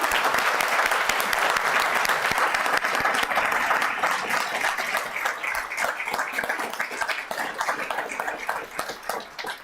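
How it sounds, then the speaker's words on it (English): A town council meeting audience applauds award winners, with dense, steady clapping throughout that stays loud and close and thins slightly toward the end. "Let's give them another round of applause."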